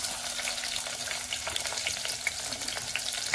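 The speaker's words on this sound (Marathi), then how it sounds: "मी आता फोडणीत टाकते कांदो." Onion sizzling in hot oil tempering in a clay pot, a steady dense crackle with scattered sharper pops throughout, close and fairly loud with no talking.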